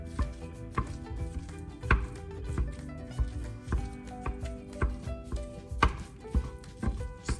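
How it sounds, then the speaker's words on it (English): Cabbage for a stuffed cabbage casserole being worked with a potato masher, giving a steady run of soft, wet thuds and squelches with occasional sharper knocks against the dish, close and fairly quiet, with no talking. "we're gonna get a mashed potato masher, and we're gonna go ahead and work that out and break it down"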